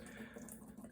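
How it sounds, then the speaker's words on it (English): A Moen Posi-Temp shower faucet still draining with the water off gives a faint, steady trickle of running water, close and continuous, with no voices. "So why is my faucet draining right now?"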